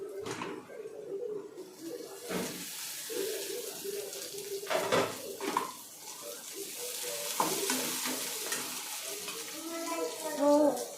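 Onion and finely chopped tomato sautéing in a pan for Maharashtrian-style dal tadka, an uneven close sizzle with frequent scraping stirs and clattering utensil knocks, some sounds faint and others louder.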